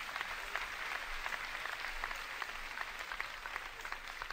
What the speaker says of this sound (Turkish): kocaman bir alkış şimdiden rica edebilir miyim?